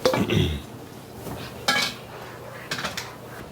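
Mushrooms stirred in a pan, with three bursts of metal spoon-on-pan scraping and clatter separated by short quiet gaps.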